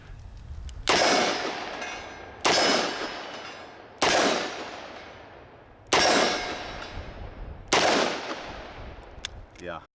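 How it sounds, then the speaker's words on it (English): Five sharp .357 Magnum shots from a small revolver with a polymer lower and steel upper, each striking a steel target with a ringing clang that decays over about a second, spaced roughly every one and a half to two seconds. ".357 Magnum here in this little wheel gun"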